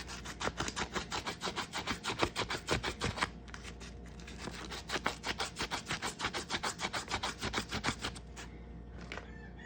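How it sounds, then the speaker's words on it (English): Rapid, rhythmic rasping of 320 sandpaper smoothing the edge of a copper-nickel quarter being made into a ring, with quick back-and-forth strokes, a brief pause midway, then more strokes, close and fairly quiet. "Take some 320 sandpaper and further smooth out that edge."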